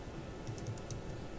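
Typing a command on a computer keyboard at a Windows command line, a short burst of four or five soft key clicks close by over a steady low background hum.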